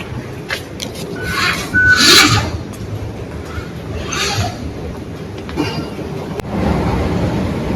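A tram in Lusail, Qatar rolls past with rumbling wheels, rhythmic rail clatter and brief high squeals, loud and close, with no speech over it.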